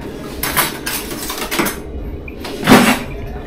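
Cutlery and dishes clatter close by as someone rummages for a knife in a kitchen, a few bursts of clinking metal and knocking crockery.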